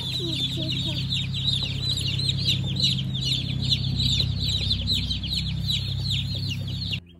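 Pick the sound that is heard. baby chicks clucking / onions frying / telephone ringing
baby chicks clucking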